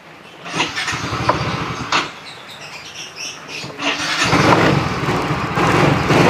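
A Yamaha Soul GT 125 scooter, down on power and prone to stalling, idles close by and then revs in a weak, rising drone, with the throttle swelling unevenly toward the end.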